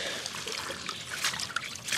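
Freshly harvested allotment vegetables being washed in water, soft trickling and light sloshing with small splashes, close and fairly quiet, with a slightly louder splash near the end.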